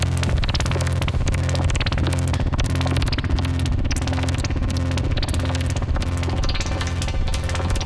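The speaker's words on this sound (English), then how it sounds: "Now let's throw a splash of reverb on it all" A dense modular synth mix fed through an FX Aid effects unit with reverb, a loud, steady, buzzing and throbbing wash of layered tones with no pauses.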